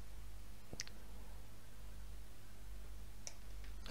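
A computer mouse gives a couple of faint, crisp clicks against quiet background hiss, one early and a double click near the end.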